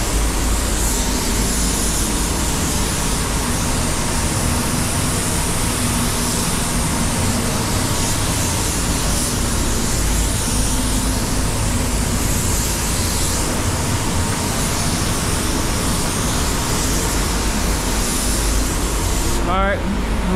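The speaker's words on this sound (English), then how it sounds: "Just drying it off a little bit with the air" Compressed air blows steadily across freshly painted car bumpers on a silver Toyota Corolla and black Toyota Camry, a loud continuous broadband hiss close to the listener, unbroken for the whole stretch while a person speaks.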